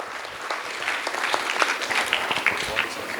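Light, scattered clapping from a small audience at a chartered accountants' conference session, a thin patter lasting about three seconds with faint voices mixed in.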